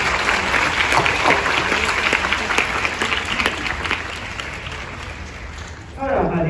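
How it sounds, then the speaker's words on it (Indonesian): Audience applause at a university convocation in Penang, Malaysia, a broad sustained clapping from a large crowd that gradually eases, then a voice begins speaking near the end. "Sila berikan juga tepukan yang paling berpuluh kepada diri sendiri."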